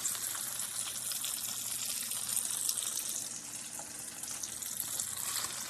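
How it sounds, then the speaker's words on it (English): Paneer cubes fry in a pan with a steady, bright sizzle, close and continuous without pauses. "you have that nice and fried, nice and starting to get that fry and color on the outside"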